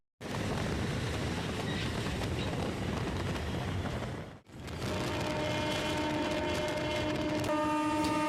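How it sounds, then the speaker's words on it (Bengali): A local train on the Uluberia to Kharagpur line pulls into Khirai station, a loud steady rumble of wheels and carriage noise that breaks briefly, then resumes with sustained high tonal squeals from brakes or wheels as it slows. "এখন আমাদের ট্রেন এসে পৌঁছালো খিরাই স্টেশনে"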